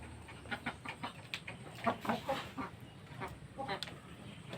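Brahma chickens crossed with native fowl clucking and calling outdoors, a scatter of short, moderately quiet squawks and clucks over faint background noise.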